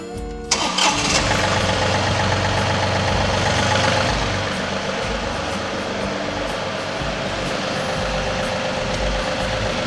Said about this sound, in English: gotta have the machine running, I guess